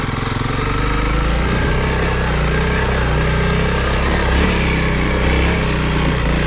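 Honda CRF300L dirt bike running off road and launching over a small jump, its engine droning loud and steady with a rough, buzzy tone under heavy wind rush, close up throughout.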